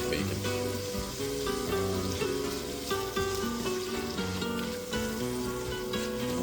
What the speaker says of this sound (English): Gonna sweat these onions in the butter and the fat.